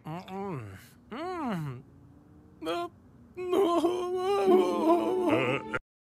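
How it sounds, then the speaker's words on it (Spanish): A cartoon character crying and wailing in rising, wavering moans, starting with two sobbing wails, then a short whimper, and building into a long, loud, breaking cry. "¿Está llorando?"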